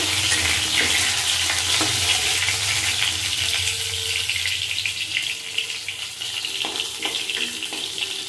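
Drumsticks, bitter gourd, potato and bean seeds frying in a pan as they are stirred, giving a steady, close hiss and sizzle with soft scraping throughout.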